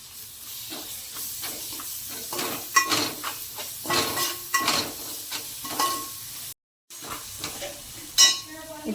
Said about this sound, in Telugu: ఇప్పుడు అల్లం వెల్లుల్లిపాయల పేస్ట్ వేసుకుందామండి. వేసుకొని దీన్ని కూడా వేయించుకుందాం.